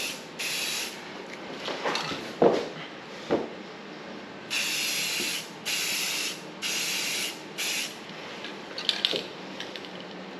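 An aerosol can sprays primer onto an engine's timing cover and valve covers in several hissing bursts of a second or two each, close up, with clicks and handling noises between bursts.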